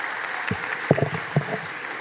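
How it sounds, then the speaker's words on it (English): Applause from a gathered crowd at an awards ceremony, moderately loud, with a few sharper claps and bumps standing out from the steady patter. "Give yourselves a round of applause"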